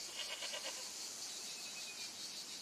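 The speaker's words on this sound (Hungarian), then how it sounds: "Kecskét hallok." A goat bleats faintly in the distance outdoors, a few short wavering calls near the start over a steady background hiss, with no one talking.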